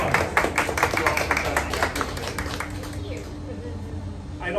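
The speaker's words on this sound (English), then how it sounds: "Let's have a round of applause." An audience at a funeral-planning seminar breaks into a round of applause, clapping strongly for about three seconds before it fades into a quieter room with faint murmuring.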